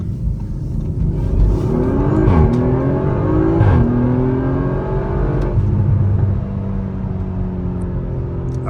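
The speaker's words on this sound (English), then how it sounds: "the transmission makes noises. It makes it sound like I have a supercharger." An Audi RS5 with more than 500 hp drives through a forest; the engine hums and accelerates steadily, with a rising whine from the transmission that sounds like a supercharger, close and continuous throughout.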